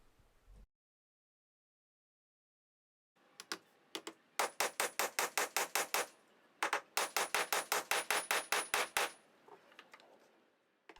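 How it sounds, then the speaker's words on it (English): A hammer taps a wooden holdfast into place in two quick rhythmic bursts of about a dozen sharp, close knocks each, following a brief thump and a few seconds of silence. "before I hit this with a hammer"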